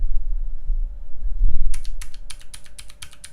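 Typing on a U60 custom keyboard with Razer green clicky switches, a short thump followed by a quick run of about seven crisp, close clicks.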